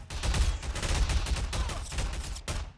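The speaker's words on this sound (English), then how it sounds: "He's getting shot at, but he's bouncing the bullets with his lightsaber." Gunfire in Garry's Mod aimed at a lightsaber-wielding fighter, heard as a dense, continuous burst of rapid shots with heavy low thump throughout.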